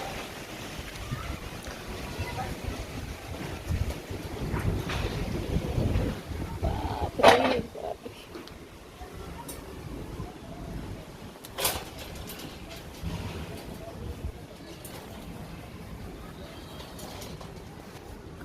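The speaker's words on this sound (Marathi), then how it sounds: "आता बघ वादळ किती सुटलेलं" Strong gusting wind roars and buffets the microphone, swelling and easing over time, with occasional sharp knocks.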